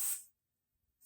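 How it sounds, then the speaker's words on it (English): One short hissing burst of vegan cooking spray from a can, lasting about a quarter second, close by, then near silence. "Cooking spray."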